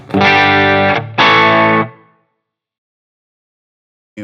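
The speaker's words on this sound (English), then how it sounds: "we're just kind of pushing the amp to the edge of breakup" Two loud, gritty overdriven electric guitar chords through a Line 6 Helix Marshall JCM800 amp model at the edge of breakup ring out back to back, the second fading into silence before another starts.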